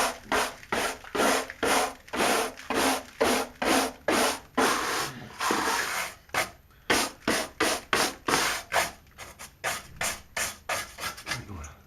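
A stiff hand brush scrubs a car's lower body panels in quick repeated strokes, a steady rasping back-and-forth rhythm with a brief pause midway, close up with no talk.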